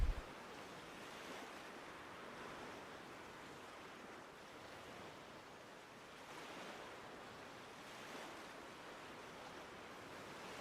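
Ocean waves breaking on a shore, heard as a continuous soft wash of surf that swells and fades gently over several seconds, distant and faint, with no voices.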